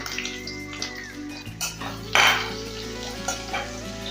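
Chopped green chilli and onion fry in a pan for steamed katla fish, a nearby sizzle with clinks of utensils against the pan and a louder burst of hiss partway through.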